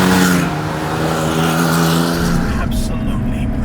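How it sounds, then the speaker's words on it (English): Loud, close engine drone from a Porsche 911 Safari rolling over speed bumps on throttle in town, a steady rumble with a shift in tone partway through and someone talking over it. "I'll show you how this car handles the speed bumps"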